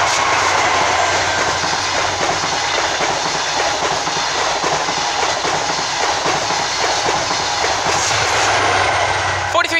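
An HST train rushes loudly past the level crossing at Shepreth station, a steady roar with rattling wheel clatter that lasts the whole stretch.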